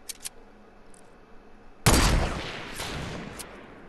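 A few faint clicks give way to a sudden loud burst of gunfire in Fortnite Battle Royale, a dense volley up close that trails off into a rattling, decaying tail.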